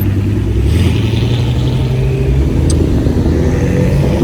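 A V8 BMW M6 convertible of the older generation runs close by outdoors in a town square, its engine producing a steady low rumble with a slight rise as it begins to accelerate, loud and continuous throughout.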